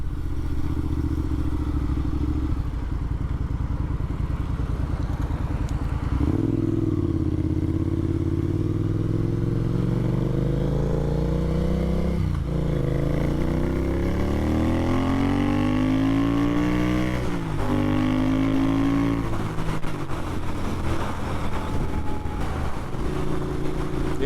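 A Triumph Scrambler motorcycle being ridden, its engine note rising through several gears in repeated climbing sweeps with brief drops between shifts, loud and close, steady wind rumble underneath.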